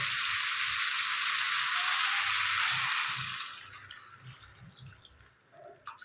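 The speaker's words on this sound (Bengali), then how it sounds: "সব জলটাই দিয়ে দিলাম" Water is poured into a pan of prawns that have been sautéed until the oil separates, giving a loud, steady rushing hiss for about three seconds that then fades to a quieter simmering crackle. No one speaks.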